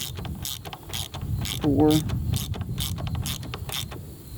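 Honda Africa Twin suspension adjuster being cranked by hand, a run of crisp regular ratcheting clicks about two per second, close and distinct, with a brief spoken count over them.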